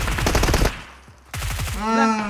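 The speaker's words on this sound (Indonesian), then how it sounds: "Belakang ada yang nembak itu, yo." Gunfire in PUBG Mobile, shooting from behind: a rapid burst of automatic shots, a brief lull, then another burst with a tonal voice-like sound near the end.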